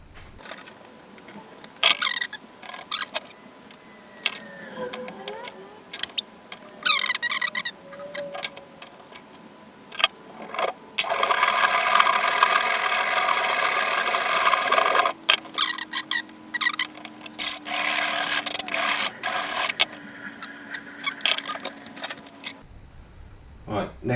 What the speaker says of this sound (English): I'm just going to cut this down to the length I want. I'm going to get the file and hacksaw.